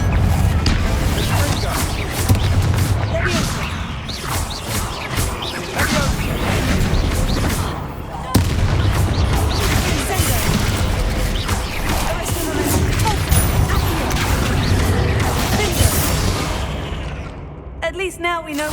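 Combat in the video game Hogwarts Legacy, where a Confringo fire spell explodes amid a dense run of crashing bursts and booms, with game voices heard over the action.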